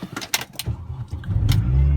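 A 2002 MINI Cooper S John Cooper Works engine cranks with a few clicks and whirs, then catches and settles into a steady, rising idle heard from inside the car.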